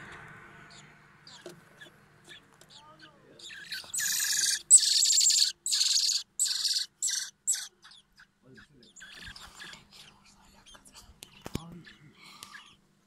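Shrill, high-pitched chirping calls from thrush chicks come in a rapid burst of repeated cries, fairly close, with quieter rustling before and after.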